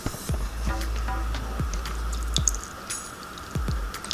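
Smoothie pouring from a Smoothie Junior SJR400B blender, a series of wet drips and plops repeating at uneven intervals, close and moderately quiet.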